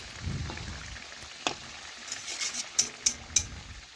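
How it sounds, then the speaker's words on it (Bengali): Vegetarian potato fritters (aloo bora) fry in oil with a soft, steady sizzle, broken by a few sharp crackles and pops near the end. "লাল লাল করে ভালো করে ভেজে নেওয়া পর্যন্ত কিছুক্ষণ অপেক্ষা করতে হবে।"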